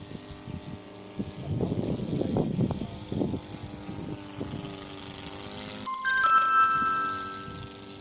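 A propeller aircraft with a boxer engine running rough gives a steady, harmonic drone with uneven surges. Near the end a loud, high, sustained ringing tone suddenly cuts in over it.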